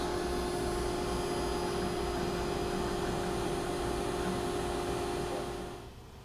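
A CNC machine carving with a 60 degree V-bit, a loud steady whine and roar of the spindle and cutting that runs continuously, then fades down at the end.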